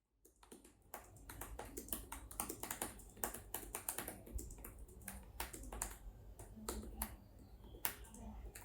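Fingers type on the keyboard cover of a Huawei MatePad 11 tablet, a quick irregular stream of light clicky taps lasting several seconds, close and fairly quiet.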